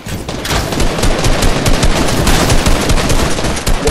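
Rapid automatic gunfire from weapons in the video game Fortnite, a dense, loud, continuous burst of shots lasting the full few seconds with no pauses.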